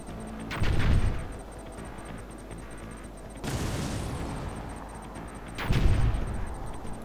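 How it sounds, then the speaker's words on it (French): Mobile artillery barrage in Command & Conquer 3, three heavy booming volleys with rumbling tails and crackling gunfire between them, beside a faint repeating electronic beep. "Artillerie mobile. Sélectionnez une cible."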